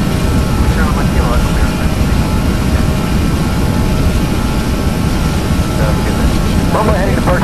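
Airbus A320 jet engines roaring at takeoff thrust in the Prepar3D flight simulator, departing Munich runway 26L; a steady, loud broadband rumble fills the whole stretch with no pause.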